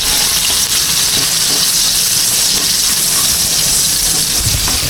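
Torta, a Filipino omelette, frying in a pan gives a loud, steady sizzle and hiss that runs unbroken throughout, with no one talking.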